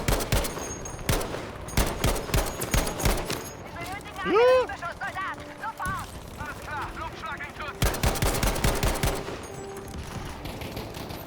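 Gewehr 43 semi-automatic rifle fire in the shooter Battlefield V, with loud close bursts of rapid shots at the start and again near the end, plus game effects and someone talking over the action.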